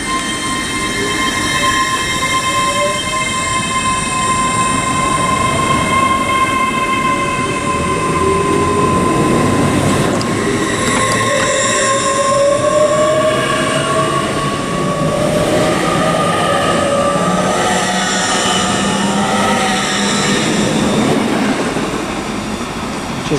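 LNER Class 801 train pulling out of Stevenage station on the East Coast Main Line, a steady loud electric whine with rising tonal hums and faint wheel squeal as the carriages roll past nearby.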